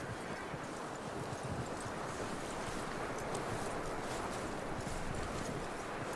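Horse hooves clip-clopping in the video game Red Dead Redemption 2, a quiet steady patter of hoofbeats under a constant wash of ambient noise.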